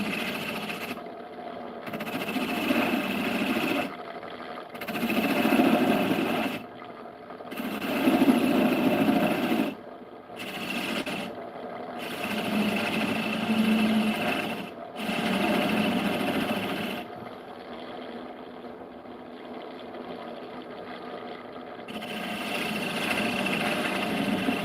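A wood lathe turns a spindle while a gouge cuts the wood, giving a steady motor whine with a run of rough, rasping cutting bursts separated by short pauses.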